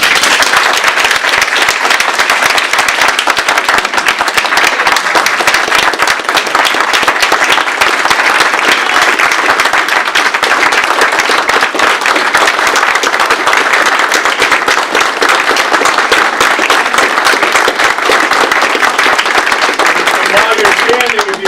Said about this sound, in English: I would ask you just to give them a round of applause for the things that they've done.